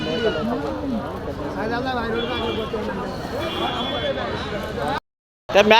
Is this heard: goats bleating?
yes